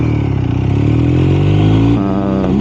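A BMW R1250RS motorcycle accelerates hard, its engine note holding loud and steady before it changes pitch near the end, close and continuous with no talk.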